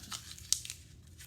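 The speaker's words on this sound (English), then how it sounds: "we're gonna crumple it up" Paper being crumpled by hand for a children's snowy owl craft, a few faint crinkles and one sharper crackle, close and quiet with no talking.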